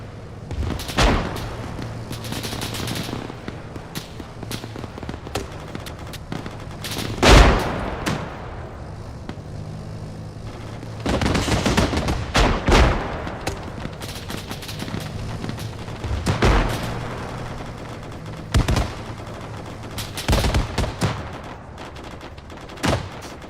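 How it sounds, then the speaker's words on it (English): Rapid bursts of gunfire in the military video game Arma 3 during a platoon ambush, with loud, repeated volleys and booms spread unevenly across the clip, some close and sharp, others more distant. "Rapid fire."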